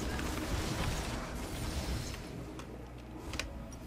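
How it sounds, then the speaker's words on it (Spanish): A kitchen blender runs somewhere in the home, giving a steady, muffled whirring roar that holds for the whole stretch with no voices over it. "mi madre está usando la licuadora."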